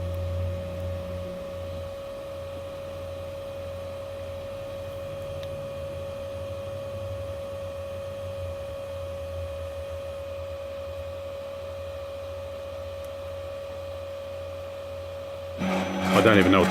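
A Big Cricket 3D printer runs its homing cycle as a steady mechanical hum with a faint tonal whine. A louder burst of motor noise comes at the very end.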